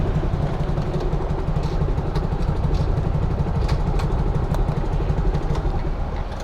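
Personal motorcycle on a one-way road, its engine running with a steady, close rumble and light clatter, continuous throughout with no voices.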